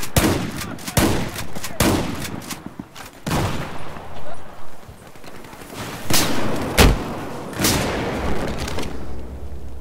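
Battlefield 4 gunfire crackles in rapid bursts and single sharp shots with booming impacts spread across a close-quarters firefight, with a player's voice talking over the shooting.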